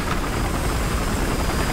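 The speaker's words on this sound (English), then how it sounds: "Enemy chopper, though." An in-game helicopter in Battlefield Hardline thunders with a dense, loud, steady rotor and engine roar, close and continuous, with no talk over it.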